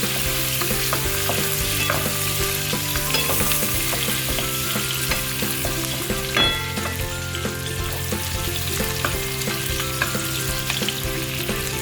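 Garlic and shallot fry in hot oil with a steady, dense sizzle and crackle, stirred now and then, continuous and close for the whole stretch with no voices.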